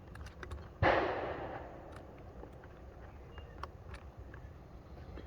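A single sharp gunshot from a .38 S&W revolver fired at steel plates outdoors, loud and abrupt with a short decaying echo, followed by faint background noise.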